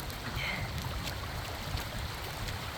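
Rainwater pours through a busted swale on a farm during a torrential downpour, a steady, loud broadband rush like a small waterfall that holds throughout without pause.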